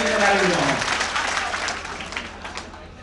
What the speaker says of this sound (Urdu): ایک بار تالی بجائے